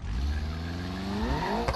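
Turbocharged Corolla engine in the BeamNG Drive driving game, a loud continuous roar with rising harmonic pitch as it revs up, heard close and alone with a brief sharp burst near the end.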